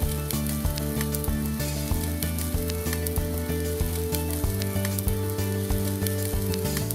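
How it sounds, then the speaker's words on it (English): Smashed beef burger patties sizzle loudly on a hot griddle pan, a steady dense crackle that holds throughout with no talking. "So these are on the griddle pan for maybe 1 to 2 minutes either side"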